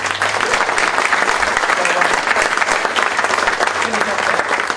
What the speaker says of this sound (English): Can I ask for another round of applause for David?